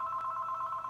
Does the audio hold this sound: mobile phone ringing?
yes